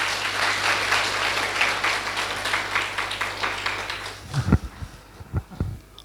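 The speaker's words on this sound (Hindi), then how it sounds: "भाई साहब के लिए और एक बार ताली बजाओ" Audience clapping at a spiritual talk, a steady wash of applause for about four seconds that thins out into a few final scattered claps.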